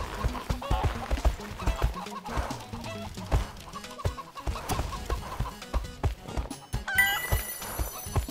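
Chickens cluck busily in My Horse & Me, mixed with horse hoof clip-clops and a whinny, in a lively, steady stream of farmyard game sounds.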